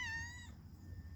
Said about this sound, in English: Don't meow me.